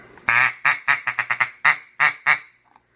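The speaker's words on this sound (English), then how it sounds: "So yeah, Scotch game call, duck call." Rapid series of about nine loud, close quacks from a Scotch duck call, bursts varying in spacing and trailing off into faint clicks.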